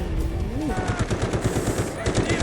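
Sustained automatic M4A1 rifle fire in the Delta Force shooter game, a fast steady stream of loud close shots lasting a couple of seconds, with faint voice and game sounds beneath.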